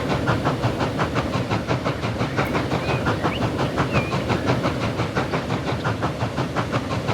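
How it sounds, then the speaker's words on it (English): In the Transport Fever 2 game, a passing train clacks in an even, rapid rhythm of wheel beats over a steady rolling rumble, close and continuous. "So there should be a train waiting here for us to go past."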